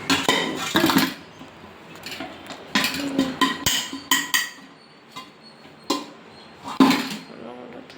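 Dishes and cutlery clink and clatter in a few sharp bursts as a rava cake is moved onto another plate, with quieter scraping between them and a voice talking in the background.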